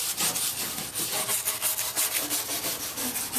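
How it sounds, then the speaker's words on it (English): Stiff brush scrubbing heavy char off a burnt wooden log from a wildfire, a fast rhythmic series of close, loud scraping strokes with no voices. "We're simply going to start brushing this stuff out of here."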